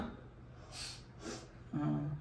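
A child draws air sharply through the nose twice in quick succession, close and soft, followed by a brief murmur of voice.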